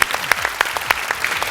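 A studio audience on a Malayalam comedy show claps for a performer named Nishad, a short burst of sharp, separate handclaps in a quick uneven rhythm, fairly close and sparse rather than a full crowd roar.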